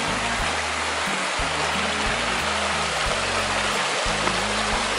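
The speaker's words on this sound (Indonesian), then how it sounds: "Ada semacam air terjun." Steady roar of an artificial waterfall in a Korea-themed park in Japan, broad and continuous, with a low droning hum pulsing underneath.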